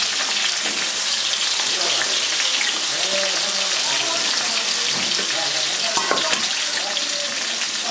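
Chopped onion and potato sizzling in hot oil in a pan after fish has been fried, a steady broadband crackle with a few louder pops and some faint clinks or stirring underneath.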